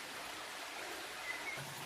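A river stream flows steadily beside a waterfall on a mountain hiking trail, a continuous close rushing wash of water with no talk.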